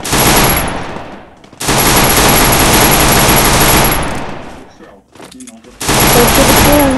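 Long bursts of rapid automatic gunfire, loud and close, separated by brief pauses with shouting voices heard in the gaps.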